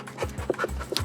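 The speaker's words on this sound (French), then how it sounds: "Là, il est en mode travail, donc il va renifler tout le camion." A drug detection dog works around a truck at a ferry customs check, giving quick, close sniffs and pants in short irregular bursts over a faint background.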